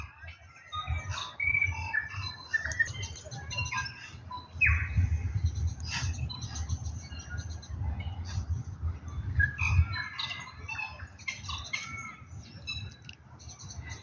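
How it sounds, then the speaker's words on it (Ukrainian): Many birds chirp and call at once in a busy, overlapping chorus in a forest near Lake Te Anau, New Zealand, with a low rumble of background noise underneath throughout. "Кожна пташка має свій голос"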